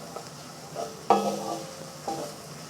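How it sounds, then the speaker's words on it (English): Red onions cooking in a pan, a soft sizzle under a few clinks and scrapes of a utensil stirring, close and fairly quiet, with no speech. "Adding the onions. And cook this for a couple of minutes."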